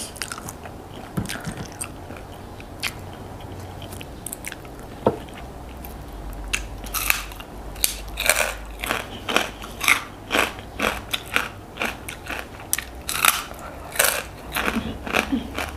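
Freshly fried crispy pork rinds are bitten and chewed close to the mic, starting with a few scattered crunches and building into a dense run of sharp crackling bites and chewing, with no talking.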